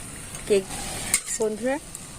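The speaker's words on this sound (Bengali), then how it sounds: "একসঙ্গে 2টো করে ভেজে নেব।" Two batter cakes fry together in oil over a low flame, giving a soft, steady sizzle with light clinks of a utensil against the pan; a voice speaks briefly over it.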